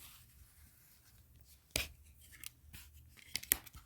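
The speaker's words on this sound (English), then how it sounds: "so I'm going to trim off this edge" A folded corner clipper trims the edge of a 2 1/4 inch quilt binding with a few sharp, close cuts and snips, spaced irregularly over quiet background.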